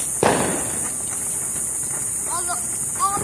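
A firework bursts with one sharp crack early on, followed by faint crackling and hiss over steady outdoor background noise, with a couple of brief voiced exclamations near the end.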